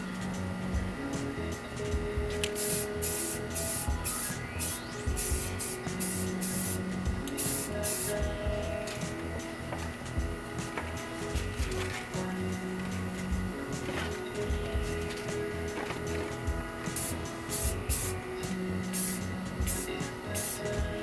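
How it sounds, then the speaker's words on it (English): Primer being spray-painted onto a bike frame during a rust restoration: repeated hissing aerosol bursts with short gaps between them, close and loud over a constant mechanical hum. "So this is a primer. So we are going to paint and prime this bad boy."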